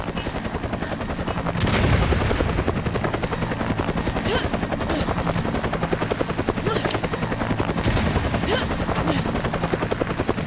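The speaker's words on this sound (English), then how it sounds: "I can hear gunfire" Rapid bursts of video game gunfire in Resident Evil 5 Mercenaries mode over a constant loud whirring rotor drone, with sharp cracks punctuating the dense mechanical noise.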